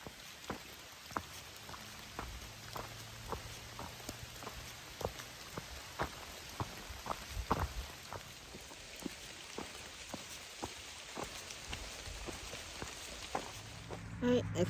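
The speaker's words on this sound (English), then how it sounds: "So it's more of a drizzle at the moment." Light drizzle falling in a forest, with scattered close drops ticking irregularly over a faint steady hiss and no talk.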